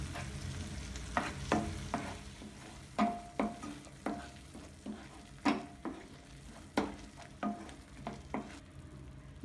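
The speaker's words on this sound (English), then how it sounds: "Saute till it becomes golden brown color." Chopped onions with a little salt sauté in a hot pan for paneer butter masala, a soft sizzle broken by a dozen sharp, rhythmic spatula scrapes and stirs, close and alone.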